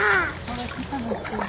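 A duck on a pond gives a short burst of quacking calls, close and brief, with other bird calls mixed in.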